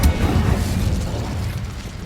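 The Incendio fire spell goes off in the video game Hogwarts Legacy as a short muffled burst with a low rumble that fades over about two seconds.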